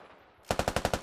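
Automatic gunfire in the video game Operation: Crazy Horse starts after a short quiet moment, a rapid even string of about seven loud, punchy shots close by.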